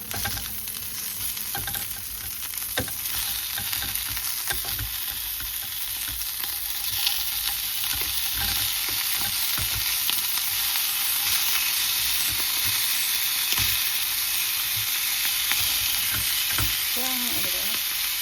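Sausage frying in a pan on a low heat, a steady crackling sizzle that carries without a break for the whole stretch, with occasional soft scrapes and stirring clicks close by.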